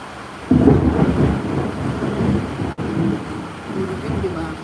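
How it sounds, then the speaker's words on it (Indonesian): Heavy rain pours steadily with low rumbling thunder in the background, a dense roar that swells and dips, with faint voices under it at times. "Hujan gede banget guys"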